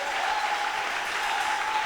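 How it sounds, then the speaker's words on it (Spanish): A church congregation applauding during a revival service, fast dense clapping sustained evenly throughout, fairly close and full, with no voices over it. "Aplauda bien fuerte a Dios"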